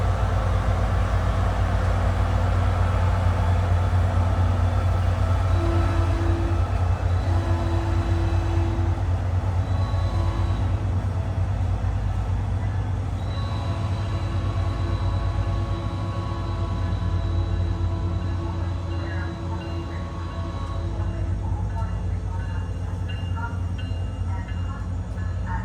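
A SunRail commuter train pulls away at DeLand with a loud, continuous rumble, low engine drone and rolling wheel noise that ease off slightly over about twenty-five seconds.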